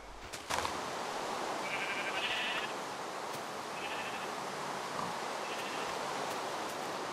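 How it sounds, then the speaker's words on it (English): Sheep bleating in the game Minecraft, a few short bleats repeating over steady broadband background noise, with no talking. "Oh, there's the other sheep. It's in the tree."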